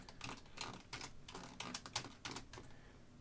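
Rapid keyboard key presses from someone steering a player through a Unity zombie survival game with the WASD keys: clustered clicky taps in quick irregular bursts, close and crisp, with no talking.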